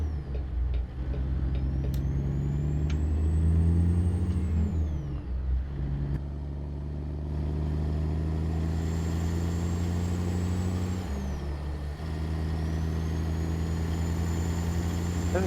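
Steady diesel drone of a Freightliner FLX 359 truck pulling a KSW B-double tanker in the video game American Truck Simulator, a low constant engine hum with gear shifts and rising whine, close and continuous.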